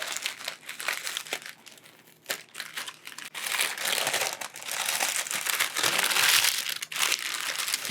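A packet wrapped in pink paper is unwrapped up close, with loud continuous crinkling and crumpling of the paper in irregular bursts, growing busier toward the end.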